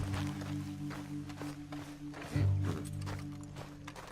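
Horse hooves clop in Red Dead Redemption 2, a soft, steady walking rhythm under low ambient game sound, with a brief louder thud partway through.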